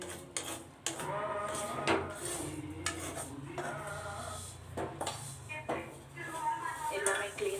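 Vermicelli being mixed into sweetened milk in a pan for milk payasam, with repeated metal spoon scrapes and clinks against the pan over a steady low hum, close and moderately loud.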